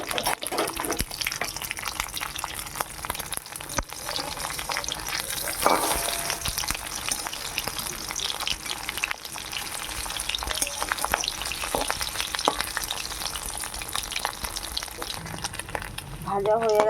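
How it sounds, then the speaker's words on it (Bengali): Two hilsa fish frying in hot oil in a wok: a loud, steady sizzle runs throughout, with occasional stirring and spattering sounds close by. "ইলিশ মাছ দুটো ভালো করে আর একটু ভাজা করে নেব।"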